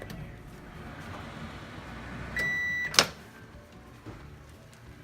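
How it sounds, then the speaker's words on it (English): A microwave oven heating a single-egg keto mug cake: a low, steady hum, then a sustained electronic beep and a sharp click before the hum carries on. "Just put it in the microwave for 90 seconds."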